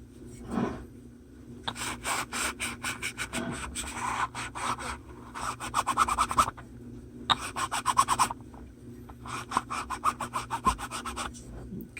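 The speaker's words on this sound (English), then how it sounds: "let's find a clean spot to Goo Gone this cone" A RadioShack 8-inch woofer cone is scrubbed clean with Goo Gone in close, rhythmic back-and-forth bursts of rubbing. The strokes come in clusters separated by short pauses.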